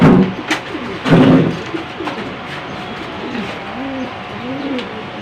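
Racing pigeons coo in a loft, a string of soft, throaty rolling calls repeating close by, with brief rustling and handling noise near the start.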